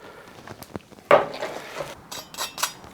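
A knife cuts into a roasted dry-brined turkey with crispy skin, giving faint scrapes, crackles and soft clinks of utensils against a plate, one sharper knock standing out among quiet close handling.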